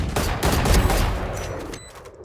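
Gunfire in the tactical shooter Valorant during a competitive pro match: a dense burst of rapid shots rattles loud for about two seconds and then fades, with no talking over it.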